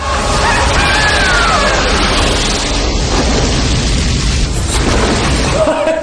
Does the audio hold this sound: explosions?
yes